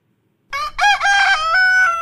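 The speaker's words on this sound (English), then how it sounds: "Cock crow." A rooster crows once, close and loud: a clear, multi-part cock-a-doodle-doo that starts after a short silence, rises, and then holds a long, drawn-out final note.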